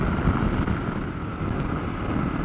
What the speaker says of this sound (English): I can definitely feel the wind on it.